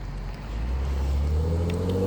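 A car rolls past at close range, its engine rumble swelling and holding steady as it goes by, loud and alone with no talk over it.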